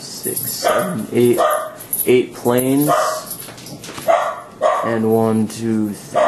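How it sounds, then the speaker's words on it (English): Dogs in a house bark repeatedly, loud and close, with yips and whines mixed in, while a man keeps counting aloud over them. "They bark at everything that walks by this house."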